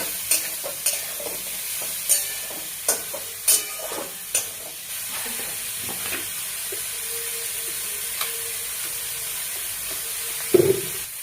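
Bottle gourd curry being stirred together in a pan, a string of sharp spoon knocks and scrapes over a low, steady sizzle, ending with one louder clatter.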